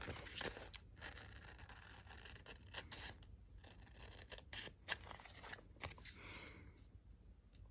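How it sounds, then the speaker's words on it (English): Scissors snip repeatedly through paper during a craft session, the crisp cuts coming in irregular bursts close by with soft rustling between them and no one talking. "Yep, and I've just picked up the scissors again."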